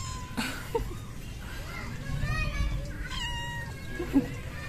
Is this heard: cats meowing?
yes